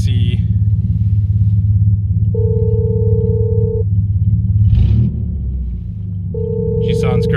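A car engine runs steadily with a deep, even rumble, close by, while two short electronic beeps sound over it.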